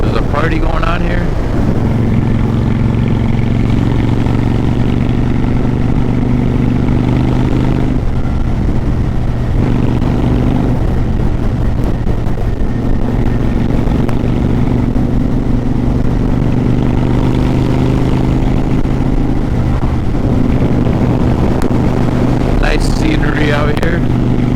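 Honda Shadow 750 Phantom cruiser motorcycle out on the road, a loud steady low engine drone with wind rush that holds almost unchanged throughout, the revs easing and climbing only slightly.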